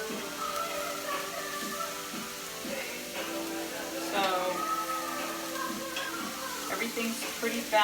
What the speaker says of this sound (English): I'm going to keep it on medium heat. And I'm just going to keep stirring this.